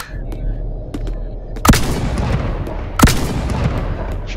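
Two heavy shotgun blasts in the VR game BoneLab, spaced about a second and a half apart, each a sharp booming crack over a constant rumbling game background.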